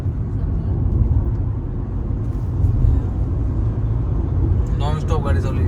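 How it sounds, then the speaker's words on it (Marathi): A car drives nonstop along a road on a Goa trip, giving a steady, close, low road-and-engine rumble throughout, with a brief voice near the end. "नॉन स्टॉप गाडी चालू आहे."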